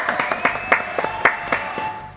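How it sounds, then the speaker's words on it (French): A few people clap in scattered, separate claps over about two seconds, close and moderately loud, with a faint steady tone held underneath. "Théophane, applaudissements, ouais."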